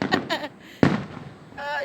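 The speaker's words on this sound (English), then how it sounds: "That's the Bahamian letting off the firecrackers disturbing you." Firecrackers set off for Bahamian Independence on Paradise Island give a sharp burst-like pop amid nearby conversation, with voices before and after the bang.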